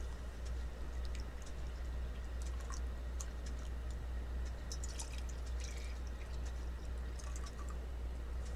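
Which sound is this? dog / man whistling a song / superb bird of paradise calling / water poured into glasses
water poured into glasses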